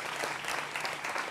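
A studio audience applauds panel guests on a televised political debate show, a dense, even wash of clapping throughout, loud and close.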